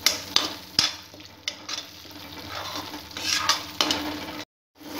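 Cream (malai) being stirred into masala for shahi paneer in a pan, with a soft steady sizzle beneath repeated scraping strokes of a spoon, close and fairly quiet, ending in a brief silence.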